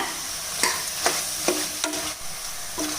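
Mushrooms with salt and coriander leaves sautéing in a pan: a continuous sizzle broken by a few distinct spatula strokes and scrapes, close, no speech.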